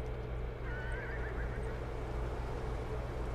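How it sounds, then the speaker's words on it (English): A horse whinnies in the video game Beyond: Two Souls on a ranch, a short wavering neigh heard over steady ambient hum and soft hoof movement. "I spooked a horse."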